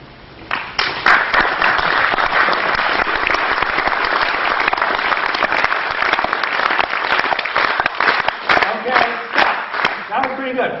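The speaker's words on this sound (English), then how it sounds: "every group claps at a different rhythm" A live audience at a talk claps together in applause, dense and loud for about ten seconds, with individual sharp claps standing out near the end as the rhythm loosens.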